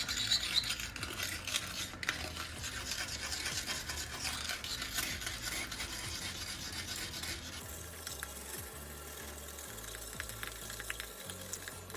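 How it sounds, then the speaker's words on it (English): A pumice stick scrubs a hard-water ring inside a toilet bowl, giving a close, continuous gritty rasping with rapid back-and-forth strokes that grow lighter and more broken in the final seconds. "I'm just gonna take the rest of that off with this pumice stick"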